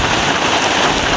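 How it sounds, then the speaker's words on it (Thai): Heavy rain pours steadily onto flooded rice paddies, a dense, continuous hiss and patter close by with no voices and no breaks. "ตอนนี้มีความรู้สึกว่าฝนเริ่มแรงมาเรื่อยๆ"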